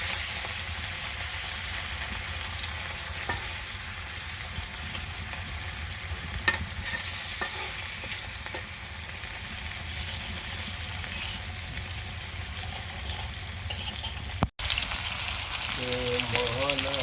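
Fish fries in hot oil with cumin, giving a steady, even sizzle and hiss for a long stretch, with a couple of brief knocks and a sharp clatter near the end.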